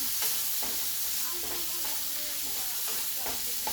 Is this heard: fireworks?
no